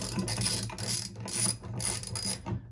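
An Allen wrench tightens a bolt on a truck-mounted MOLLE bracket for a 2019+ GM Silverado or GMC Sierra, giving repeated ratcheting clicks in short bursts up close.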